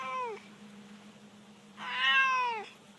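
A cat meows twice outdoors on the Gettysburg battlefield: a short call at the start, then a longer, louder meow about two seconds in, over a steady low hum.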